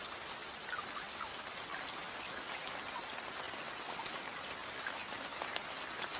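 Rain falls steadily on open grassland, a dense even hiss of countless drops that stays constant and fairly soft with no voices.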